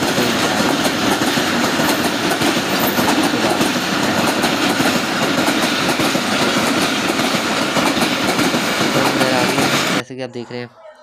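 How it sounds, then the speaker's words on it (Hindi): A train rolls past a closed railway level crossing at night, its wheels clattering loud and steady for about ten seconds before the sound cuts off abruptly into a quieter low hum. "अब ट्रेन आने का इंतज़ार कर रहा हूँ मैं"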